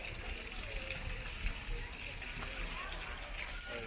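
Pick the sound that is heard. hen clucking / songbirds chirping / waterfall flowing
waterfall flowing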